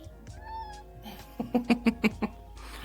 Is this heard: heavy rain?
no